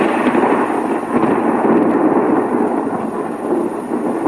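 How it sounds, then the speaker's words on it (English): A long, loud, steady rumble of thunder fills the whole stretch, with a rain-like wash over it and no voices. "And he also get a strike of thunder from God."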